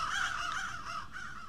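Inside the Roblox game Doors, crows caw in a steady, harsh call that rises and falls, loud and close with no other sounds around it.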